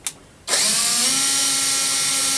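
Power drill driving long self-tapping screws into metal: one loud, steady whir that starts abruptly after a brief click and holds close throughout.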